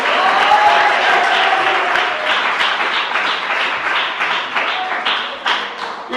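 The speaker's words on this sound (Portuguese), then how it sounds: "Palmas para Jesus" A church congregation claps together, dense and loud at first and easing slightly, with individual sharp claps standing out near the end.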